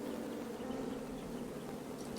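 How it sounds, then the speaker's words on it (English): A buzzing beehive in the King's Quest video game gives off a steady, dense insect drone, close and continuous, with no voices over it. "Shame about that buzzing beehive, though"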